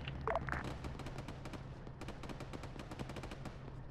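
Distant, muffled bursts of BMP vehicle gunfire in Arma 3, a steady rattle of repeated shots over a low rumbling battlefield background, with no voices.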